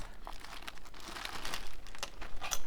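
A bag of yarn being handled gives off soft, continuous plastic crinkling that rustles on and off with a few sharper crackles, close and alone.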